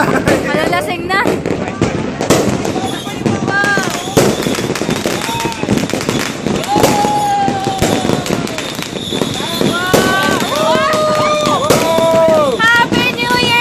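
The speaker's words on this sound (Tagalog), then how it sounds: "Fireworks everywhere!" New Year fireworks burst all around in a dense, loud crackle of bangs and pops, with whistling rockets rising and falling, while people shout and talk excitedly over the din.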